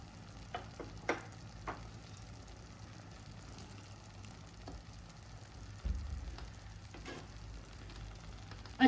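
Semolina roasting in ghee for suji halwa with cardamom powder and dry fruits, a faint, low sizzle under scattered soft ticks and scrapes of stirring in the pan.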